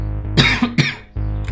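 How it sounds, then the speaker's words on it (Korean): Two sharp, loud coughs in quick succession close to the microphone, over a steady low electrical hum. "마이크 끈다는데 기침을 너무 크게 했어"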